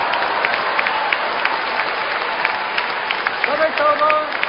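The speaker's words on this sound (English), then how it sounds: "And the crowd really are enjoying it, aren't they?" A crowd at a Hong Kong Open badminton match applauds in a steady, fairly loud wash of clapping that runs the whole time, with a commentator's voice over it.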